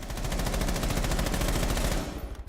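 Automatic rifle fire from Buck's ACOG-scoped gun in Rainbow Six Siege, a loud, continuous rapid burst lasting about two seconds before stopping abruptly, with no voices over it.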